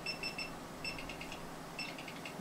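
A multimeter in continuity mode beeps as a Saitek trim wheel from a Twin Otter cockpit build is spun, giving short quiet pulses in two bursts of rapid chirps against a low background hiss.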